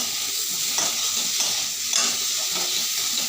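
Sugar is stirred into a pan of olives over a gas flame, a steady broadband sizzle and hiss underlying faint, intermittent scraping strokes of the stirring utensil, with no talking.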